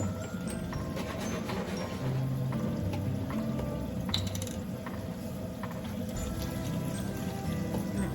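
Coconut milk poured into freshly roasted curry paste in a food-truck kitchen, a soft continuous liquid pour with light sizzling and faint clicking, quiet and steady without talk.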